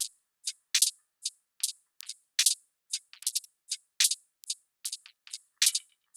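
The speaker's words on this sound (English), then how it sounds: "everything above 3K in this particular drum loop is what we're going to be focusing on." Crisp, bright hi-hat and cymbal ticks from a drum loop filtered to above 3 kHz, in a steady rhythmic pattern, thin and airy with no low end, playing alone at moderate level.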